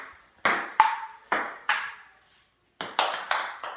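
A ping pong ball struck and bouncing during a casual table tennis game, sharp bright clicks in pairs and short runs with a pause before a final quick volley, close and clear without speech.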